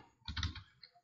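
A short burst of keystrokes on a computer keyboard while entering text in Microsoft Word, a quick cluster of soft taps followed by one more click, close and quiet with no talking.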